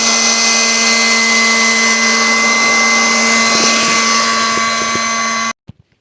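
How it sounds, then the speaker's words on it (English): A leaf blower runs into the engine bay of a 1949 Jeep Willys pickup, giving a loud, steady, close whine that cuts off abruptly near the end and is followed by a few small knocks. "we're going to try and blow some of these leaves out with a leaf blower"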